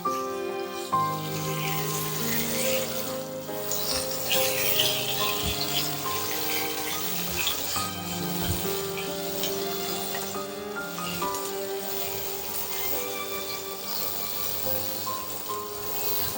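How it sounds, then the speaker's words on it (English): Prawns sauté in a pan with garlic, giving a loud, continuous sizzle and crackle that holds steady throughout, with occasional soft stirring movements and no voices. "First we saute the prawns."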